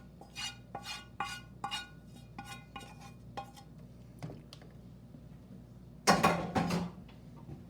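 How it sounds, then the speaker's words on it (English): Sauteed onions and leftover pan juices get scraped from a pan into a pot, a run of rhythmic metallic taps and scrapes of a utensil against cookware, then a louder clattering burst near the end, close and without speech. "To that, we are adding our onions that have been sauteed and any juices that are still left in the pan."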